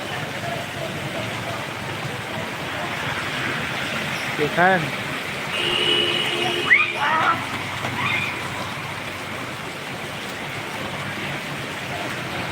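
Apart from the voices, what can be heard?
heavy rain pouring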